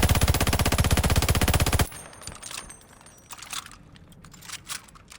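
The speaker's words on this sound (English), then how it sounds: "Yeah, let's go over here and actually fire it." A Nikita AVT rifle in Call of Duty: Vanguard fires a fast, rapid automatic burst for about two seconds, then stops, leaving quieter clicks, handling rattles and faint ambient game noise.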